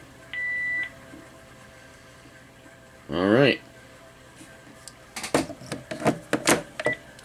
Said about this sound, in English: The ringtones on the Panasonic KX-TG1033S.